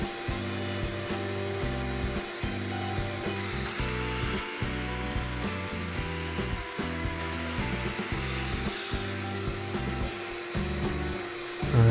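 A power sander works over pencil lines on a wooden dining table, a steady whirring drone broken by short rhythmic dips as the tool moves across the surface.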